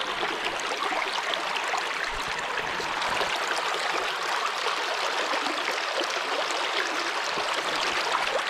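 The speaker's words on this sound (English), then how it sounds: "Look at that creek." A clear creek flows steadily nearby, a continuous bright rushing and trickling of water with no voices.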